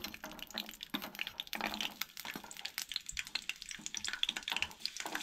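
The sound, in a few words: garlic and ginger sautéing in oil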